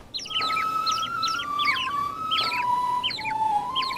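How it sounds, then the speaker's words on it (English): Tiny birds in Zelda: Tears of the Kingdom chirp the Wind Temple melody, a repeating run of bright, high whistled notes in short phrases over a steady hum of background ambience, with no talk. "you hear these tiny birds sing this song"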